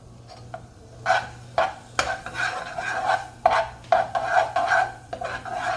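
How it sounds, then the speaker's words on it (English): Flour and butter stirred in a pot for a homemade baked mac and cheese roux, with a utensil scraping and rasping in repeated close strokes against the pan, no talking. "we're gonna stir this until this flour cooks up"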